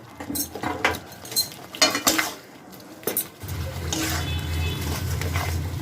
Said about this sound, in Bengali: গুড়টা দিয়েও তেঁতুলটা ভালো করে মিশিয়ে নেব